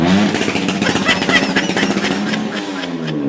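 A motorcycle passes close by on a roadside, its engine a loud rough buzz that holds steady before easing slightly toward the end, with no talking.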